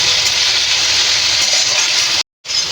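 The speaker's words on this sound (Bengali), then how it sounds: "নুন হলুদ দিয়ে মেখে রাখা চিংড়ি মাছগুলো এবার ভেজে নিচ্ছি।" Shrimp rubbed with salt and turmeric fry in hot oil in a pan, giving a steady, close sizzle and hiss that breaks off briefly near the end.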